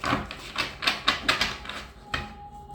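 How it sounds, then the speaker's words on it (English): A new deck of tarot cards being shuffled by hand gives quick bursts of crisp papery riffling and snapping, about eight in an uneven rhythm, close and fairly quiet, with no talking. "One more shuffle"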